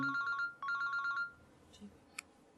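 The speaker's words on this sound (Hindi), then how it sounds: "बहुत देर से आपका फोन बज रहा है।" Telephone rings in two bursts of rapid electronic trills, loud and close, then stops, leaving a quiet room with faint small noises.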